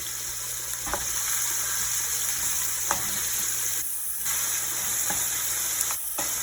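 Onions sweating in a pan give off a steady, gentle sizzle that runs throughout, with a few brief soft knocks from a utensil against the pan.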